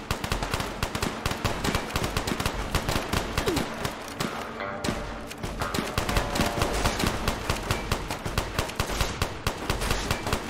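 Rapid, dense gunfire from a video game companion character wielding a shotgun in a Terminator style, carrying the B-51, sounding as loud, continuous volleys of shots with no talk over them.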